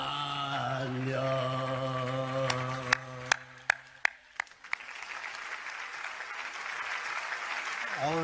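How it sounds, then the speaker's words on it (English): At a service, a held musical tone fades out as a few scattered, sharp claps ring out. They give way to steady, moderately loud applause from a crowd. "And a round of applause for the true father."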